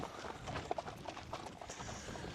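Horse hooves clip-clop on a stable yard at a summer jumps racing stable, a few light, uneven steps at moderate distance over faint background murmur.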